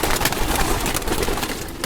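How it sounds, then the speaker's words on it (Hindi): A pigeon coos inside a pigeon keeper's loft, the low calls muffled and partly buried in continuous dense rustling and background noise. "प्यारा कबूतर है"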